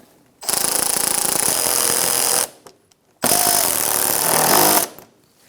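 Two loud, steady bursts of about two seconds each come from a power tool tightening bolts on the inner fender liner of a 2012-2018 Ford Focus. A short pause separates the bursts and each one cuts off cleanly.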